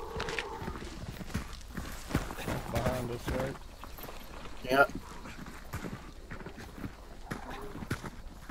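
A horse in the video game Hunt: Showdown clip-clops along in a brisk rhythmic patter, moderately close, under players' low voice chat.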